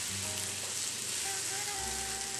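Tofu scramble eggs frying in a cast iron skillet, a loud, steady close-up sizzle that runs unbroken throughout, with faint scraping as they are turned.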